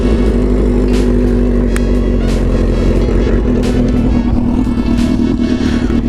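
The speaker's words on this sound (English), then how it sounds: "So now that this is done, we're gonna take the bike. Ooh, and it should start right up." A motorcycle engine running steadily after starting up, a loud, close, continuous idle with a low throb and occasional mechanical clatter, heard alone.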